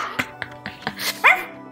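A person mimics a dog with several short, yippy barks in quick, uneven succession, close to the microphone, ending in a higher whining yelp.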